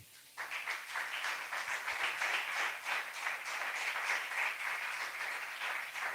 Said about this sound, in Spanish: Dele un aplauso al Rey de Reyes.